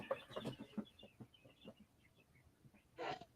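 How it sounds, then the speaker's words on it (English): Quail in a brooder just behind the microphone, chirping in quick, high, faint peeps that scatter irregularly through the stretch, with some soft murmuring and a brief burst of louder noise near the end. "I don't know if you guys can hear right behind the microphone or my quail brooder, and they are going crazy in there"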